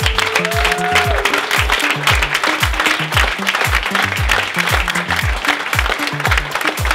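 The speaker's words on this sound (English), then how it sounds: "I wanted to give them a really big round of applause" Audience applause at an entrepreneur academy launch at Google Campus, dense sustained clapping filling the room, with a steady rhythmic thumping beat underneath throughout.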